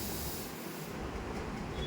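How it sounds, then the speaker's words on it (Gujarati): An air cylinder valve opened during a practical demonstration releases a continuous broad hiss of escaping air, loud and unbroken, with no voices over it. "તો આ રીતે વાલ્વ ખોલીશું આપણે."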